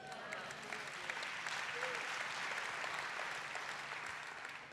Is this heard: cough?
no